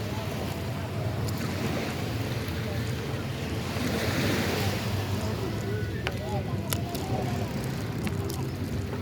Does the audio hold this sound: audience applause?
no